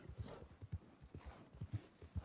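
Horse hooves clip-clopping in Red Dead Redemption II, a quiet, even walking rhythm of soft thuds repeating steadily across the short stretch.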